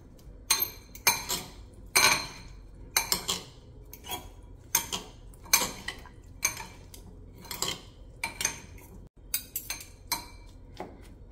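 A spoon clinks and scrapes against a bowl as mango salsa ingredients are stirred together, sharp irregular metallic taps close by with quiet gaps between them.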